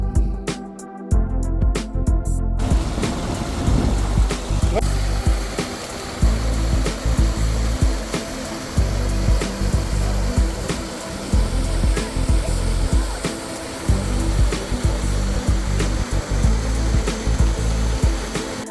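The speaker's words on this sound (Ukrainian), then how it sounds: "Купинський водоспад витікає з під старовинного мосту" Kupyn waterfall in Ukraine's Khmelnytskyi region, flowing out from under an old bridge, gives a loud, steady broadband rush throughout, with a few sharp clicks at the start.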